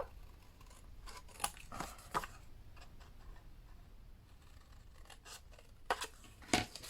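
Scissors snipping paper close by, a few sharp crisp cuts spaced irregularly over a quiet background, with no talk.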